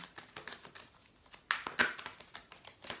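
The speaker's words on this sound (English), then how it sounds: "Let me just continue shuffling." Soft, rapid papery flicks and riffles of tarot cards being shuffled, close and quiet, with a couple of sharper snaps in the middle.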